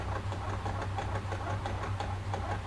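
Engine of a car in the racing sim Live For Speed revving after an upshift, a steady buzzing drone with a low hum underneath, held at an even level throughout.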